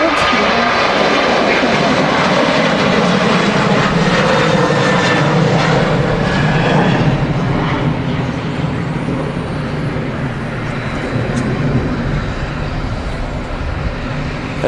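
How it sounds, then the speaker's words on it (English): A Ryanair jet departs Manchester Airport bound for Prague, its engines a loud, sustained broadband roar that fills the whole stretch and eases only slightly toward the end. "As the Ryanair is departing off to Prague."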